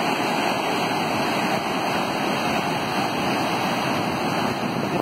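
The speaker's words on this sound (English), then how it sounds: "cherishing the beautiful waves" Ocean waves at Little Beach on the east coast of Tasmania during a morning walk, a loud, continuous broadband roar of surf with no distinct breaks, alone without voices.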